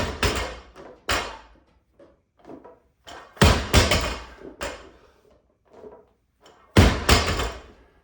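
A loaded barbell is dropped to the floor between explosive Pendlay rows, landing in heavy thuds with some rattle. The biggest impacts come about every three seconds, with softer knocks and clanks in between.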